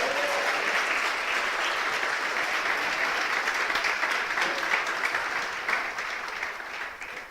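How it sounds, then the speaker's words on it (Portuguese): A church congregation applauding steadily, dense sustained clapping from a large crowd filling the room, loud and continuous before tapering slightly at the end. "Você pode aplaudir o Senhor,"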